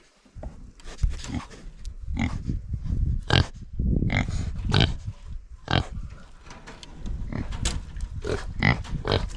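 Pigs on a New Zealand farm grunt and oink repeatedly at close range in irregular bursts, with snuffling and rustling between calls.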